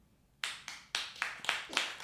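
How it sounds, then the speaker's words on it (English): A live comedy show audience answers the host with scattered clapping, several bright bursts of hand claps arriving in quick waves, fairly close and with no talking over them. "By a round of applause, how many of you have been to our show before?"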